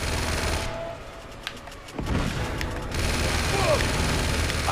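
Automatic gunfire and a grenade blast from a machine-gun nest in the action game Uncharted 2: Among Thieves, with a dense, loud burst of shots followed by a heavy boom and continued fire, set against game background noise.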